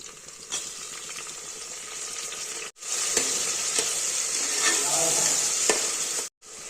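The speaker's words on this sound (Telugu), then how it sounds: "ఇప్పుడు కట్ చేసి పెట్టుకున్న టమోటా వేసుకుందాం" Chopped tomato goes into onions and green chillies frying in oil for cooker vegetable rice, giving a steady close sizzle with scraping stirs and two brief silent breaks, no talking.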